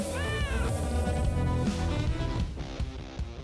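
A short kitten meow rises and falls near the start, set against steady background music that carries on alone afterward.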